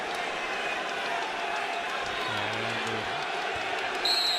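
Arena crowd murmuring and reacting at a Kentucky vs LSU college basketball game, a steady distant roar with a whistle blast midway, under ongoing commentary.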